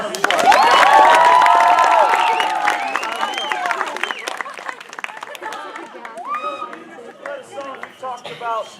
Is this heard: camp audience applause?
yes